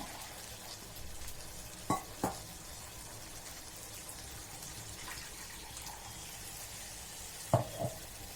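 Water poured into spiced masala frying in a pan sets off a faint, steady sizzle and bubbling hiss, with a few sharp utensil knocks scattered through; quiet and close, no voices.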